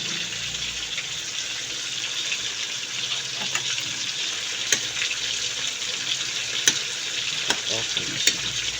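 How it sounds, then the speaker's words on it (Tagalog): Sausage sizzles in a frying pan for white macaroni with onion and mushroom, giving a steady crackling hiss with sharp occasional pops, close up and fairly quiet. "Fried muna po natin yung sausage."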